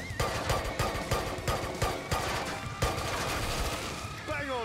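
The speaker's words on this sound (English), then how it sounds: "Nearly out of shotgun ammo." Rapid, repeated gunfire blasts out in Killing Floor 2, a dense run of loud, punchy shotgun shots firing roughly every half second with barely a pause between them.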